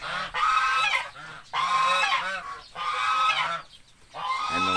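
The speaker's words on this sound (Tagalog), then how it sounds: "bantay natin, ganso. Pag may lumapit na tao, andyan sila, maingay." Geese kept as guard birds on a hot farm day honk loudly in repeated bursts, several overlapping calls near the listener, with brief pauses between volleys.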